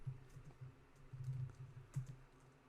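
Quiet, irregular clicking of keys on a computer keyboard while typing a command into PowerShell, with bursts of keystrokes and brief pauses.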